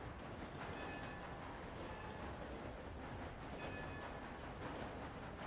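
Steady low rumble of a train passing in the Red Dead Redemption 2 game, a continuous rolling roar of rail noise heard alone at moderate, even volume.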